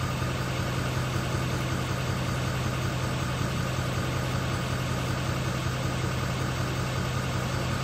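A car engine idles steadily and close, a continuous low rumble with even vibration and no voices, while engine cooling data is read out with an OBD2 scan tool.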